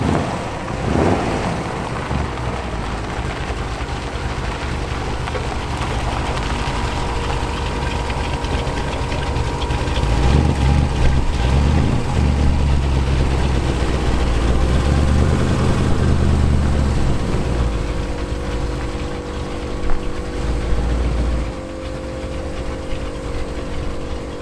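A 1957 Chevy with a 350 small block V8 and four-speed manual runs in an indoor garage as a loud, steady low rumble close by, with some wind buffeting on the mic.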